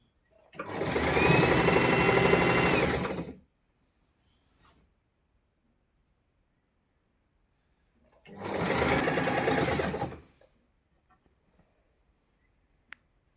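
A sewing machine stitching a pant hem runs in two close, loud bursts of rapid whirring, each about two to three seconds long, separated by a quiet pause with a faint click.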